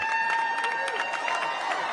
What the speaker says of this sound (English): Listen to the crowd go wild when he falls over.